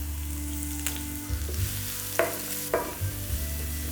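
Onion, green chili and curry leaves crackle in hot oil while a spoon scrapes and stirs several times, giving sharp clinks and scuffs over a low, steady sizzle. No one speaks.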